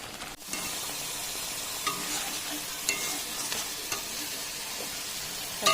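Ground cabbage-leaf paste cooks in a pan as its water boils away, giving a steady, close hiss and sizzle with a few faint scrapes and clicks along the way.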